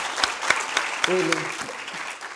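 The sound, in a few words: audience applause at a conference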